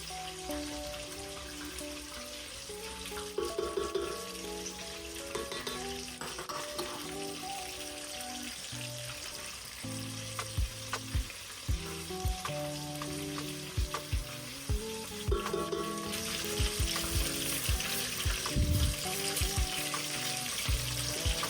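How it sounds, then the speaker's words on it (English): Minced onions and garlic sizzle in olive oil and butter over medium-high heat, a continuous close frying crackle with intermittent clinks and stirring knocks throughout. "Over medium-high heat, saute the minced onions and garlic in olive oil and butter"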